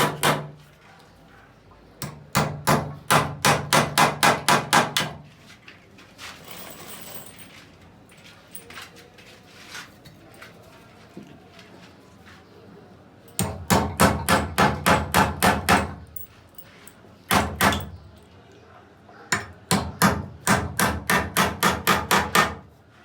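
Nails are hammered into wood on a construction job in several rapid runs of sharp, evenly spaced blows, loud and close, separated by quieter pauses with faint handling noise.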